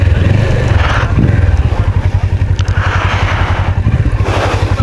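Several motorcycles ride off one after another on a Himalayan mountain road in Ladakh between Jispa and Leh, steady loud engine thrum with rhythmic pulsing and occasional revving, close by, no talk.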